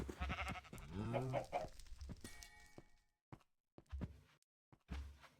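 Sheep in a Minecraft pen bleat in FTB StoneBlock 4, a few wavering bleats up close, followed by scattered footsteps and clicks.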